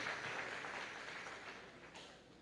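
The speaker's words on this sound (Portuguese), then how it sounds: "Vamos dar uma salva de palmas para quem tem 25 anos aqui." A church congregation claps together in a short burst of applause, a steady dense patter that fades slightly toward the end.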